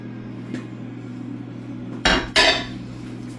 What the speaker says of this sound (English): I'm going to grab a big mixing bowl